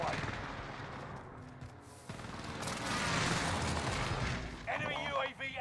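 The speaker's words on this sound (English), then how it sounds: "Allied precision airstrike incoming." Video game combat with a precision airstrike and gunfire: dense, continuous bursts of shots and blasts fill the mix, fairly faint overall, with a sharp shift in the barrage partway through and a brief tonal game sound near the end.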